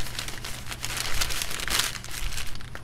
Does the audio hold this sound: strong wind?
no